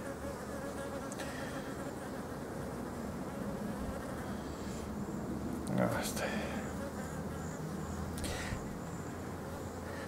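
Honey bees droning steadily at a hive during queen introduction, a dense continuous buzz close by with a brief louder swell midway, and a person talking over it.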